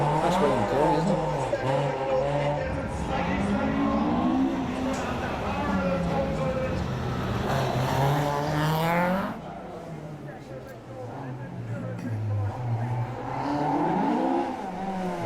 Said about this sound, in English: The noise of those cars through the streets must be fantastic